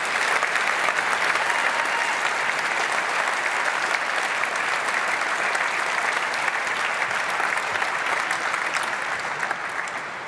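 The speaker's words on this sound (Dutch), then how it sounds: "groot applaus voor Biljana" Sustained, loud applause from a large audience fills a hall at the Utrecht University academic year opening, steady throughout and fading slightly at the end.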